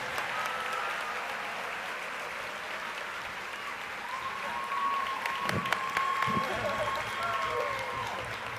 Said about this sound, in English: we'd like both teams to receive a round of applause from you